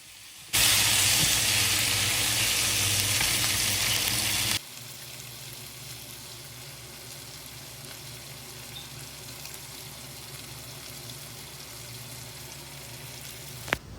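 Chicken fries in oil with a loud, steady sizzle for the first few seconds, then drops to a quieter, continuous crackle and hiss.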